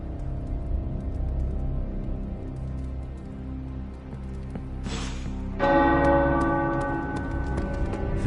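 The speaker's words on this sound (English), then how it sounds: "The tower bells are ringing." Tower bells ring in the video game Midnight Suns, a soft low toll carrying under a hushed rain-like ambience before a brighter, louder bell strike rings out and sustains toward the end.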